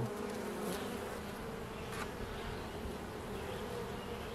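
A dense, steady buzz of many honeybees swarming close by at an open hive, a continuous droning hum with no speech.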